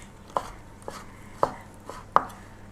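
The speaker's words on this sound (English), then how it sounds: "I'm just going to give it a little tiny chop to help it along" Knife giving preserved lemon a quick fine chop on a board, four distinct close chops spaced about half a second apart, crisp and alone.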